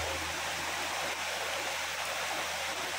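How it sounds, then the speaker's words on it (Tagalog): Heavy rainwater rushes down a mountain road like a raging river, a constant dense roar of flowing water, close and loud, with no break. "parang ilog na nagwawala"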